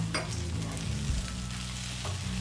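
Sabudana khichdi with peanuts being stirred in a pan over high heat, a continuous close sizzle with soft scraping strokes throughout.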